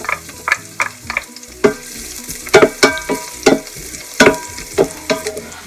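Garlic sautés in hot olive oil in a pan while a spoon stirs it, making a sharp sizzle with repeated scraping and stirring strokes, close and fairly loud.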